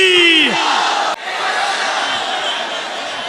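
A crowd at a Ramadan religious gathering roars back loudly in unison after a takbir call, a dense, sustained mass of voices that opens with one raised voice and carries on strongly.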